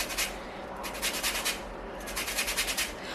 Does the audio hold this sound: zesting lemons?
yes